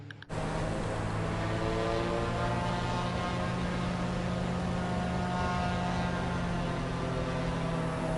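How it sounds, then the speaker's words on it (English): A steady aircraft engine drone from Microsoft Flight Simulator 2024, a plane at Lukla airport in Nepal, holds a constant loud hum with layered tonal harmonics throughout, with no talk. "I hear another plane. Or is it my plane? It's my plane."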